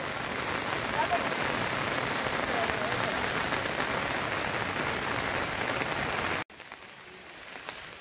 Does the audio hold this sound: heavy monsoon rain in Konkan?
yes